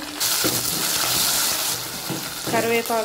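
Green chillies, garlic stalks and curry leaves fry in hot oil with a steady, loud broadband sizzle, interrupted by a few clinking stirs of a spoon against the pan near the end.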